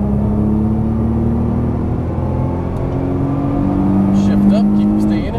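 A Nissan GT-R accelerates out of a corner on a race track, its engine droning loudly with rising tones, while a person talks over the engine noise from inside the car.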